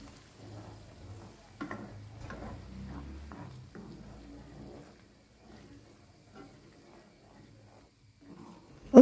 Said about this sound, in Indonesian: Lanjut kita aduk-aduk kembali.